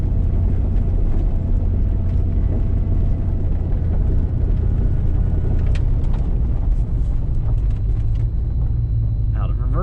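A broken-down Gambler buggy drives along with a steady, loud engine rumble close by, under someone talking throughout and a few brief clunks near the end.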